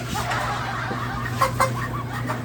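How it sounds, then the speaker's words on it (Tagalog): A pet chicken clucks in short, low, throaty bursts over a steady background hum. "Ayos tong manok mo ah."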